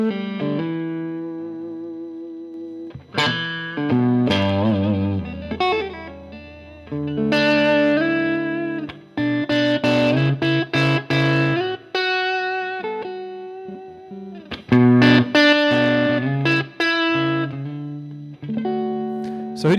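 An electric guitar plays through a Bad Cat Cougar 5 5-watt 1x12 combo amp with effects pedals, giving a distorted, reverb-washed tone. Chords and single notes ring out in bursts with short pauses, loud and alone.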